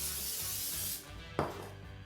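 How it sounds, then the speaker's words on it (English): Olive oil cooking spray hissing onto boneless country-style pork ribs, one close sustained spray followed by a quick second short burst. "I'm going to begin by spraying my ribs with olive oil cooking spray"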